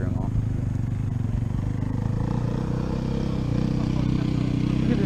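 Honda dirt bike ridden through mud with other riders on Hondas nearby, a steady engine drone with rattling and clatter running beneath.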